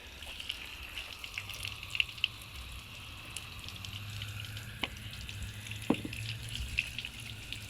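Hose water rinsing snow foam off unpolished car paint, a steady soft hiss of flowing, sheeting water with scattered drips and spatters, fairly faint and continuous, no talking.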